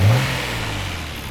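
A 1993 Nissan Skyline GT-R R32 with its RB26 engine and six individual throttle bodies revs loudly and up close. A brief burst fades into a steady, lower engine drone over about a second.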